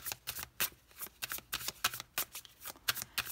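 Tarot cards are shuffled close by in quick, rhythmic riffling bursts, repeated many times with short gaps between them.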